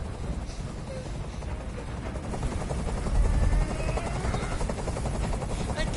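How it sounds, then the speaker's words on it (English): A helicopter in the game Detroit: Become Human thunders overhead with a loud, continuous rotor chop, swelling slightly as it passes, with no voices. "I can't stand that noise anymore. Tell that helicopter to get out of here."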